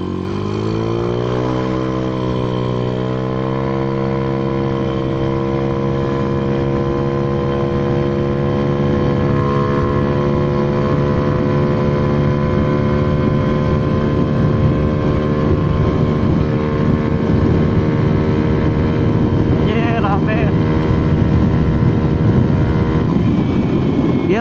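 Carbureted, bored-out Honda Vario scooter with a standard CDI held at top speed around 120 km/h, its engine a loud, continuous high drone with rising pitch early on, plus steady wind rush.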